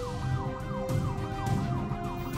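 Wailing police sirens in the Roblox game Brookhaven cycle up and down continuously, loud and steady, with a low engine-like rumble underneath.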